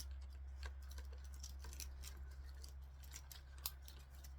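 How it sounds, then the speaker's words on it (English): Wire cutters snip wire on a Dollar Tree Christmas ribbon wreath with pine cones, making faint, quiet clicks and small snips scattered over a low steady hum. "I have a wire cutter here I'm going to use. Go ahead and snip that."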